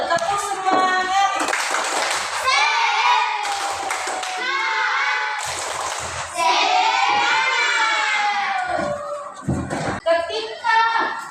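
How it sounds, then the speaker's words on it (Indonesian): Rhythmic clapping from a fifth-grade primary school class, loud and close, mixed with children shouting and cheering; bursts of clapping repeat in a patterned beat with excited kids' voices throughout. "Tepuk semangat."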